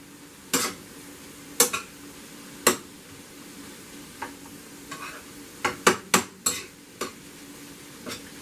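A spoon clatters against a pan while stuffed bell pepper filling with Parmesan cheese is mixed, giving several sharp scrapes and knocks that grow more frequent toward the end over quiet background.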